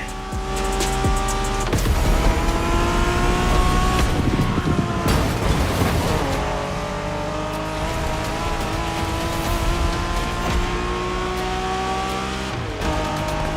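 Japanese street racing cars in The Crew Motorfest roar at high revs, with gear shifts, tire squeals and skids layered over a dense, continuous engine drone.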